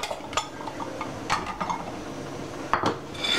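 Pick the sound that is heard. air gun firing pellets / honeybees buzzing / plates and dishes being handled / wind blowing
plates and dishes being handled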